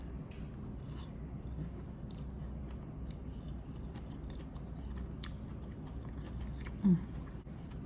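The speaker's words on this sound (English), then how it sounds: "Let me show you guys my first bite." Close, quiet biting and chewing of supreme pizza palmini pasta, with soft wet mouth sounds and faint crunches over low background noise and one brief louder thump, with no talking.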